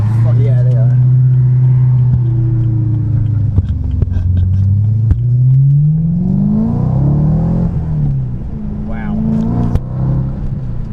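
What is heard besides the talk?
modified BMW E92 M3 engine revving with performance air intake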